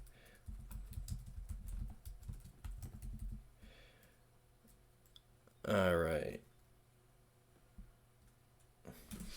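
Typing on a computer keyboard during a live pre-market day-trading stream, heard as quick bursts of soft clicks in the first few seconds, followed by scattered quieter taps and one louder burst near the middle.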